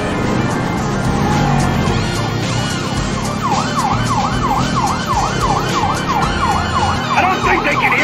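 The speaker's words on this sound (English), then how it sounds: "I don't think they can hear the sirens." Police sirens in GTA 5 wail loudly with a fast rising-and-falling pattern over a running car engine, continuous throughout.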